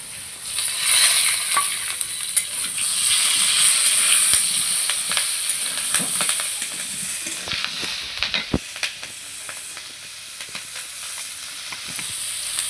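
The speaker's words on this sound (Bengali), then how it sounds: "এবার দেবো চেরা কাঁচা কাটা লঙ্কা।" Slit green chillies sizzle loudly in hot oil for a potato, dal, jute-leaf and pumpkin-leaf curry. The hiss is continuous and close, with occasional stirring clicks and no talking.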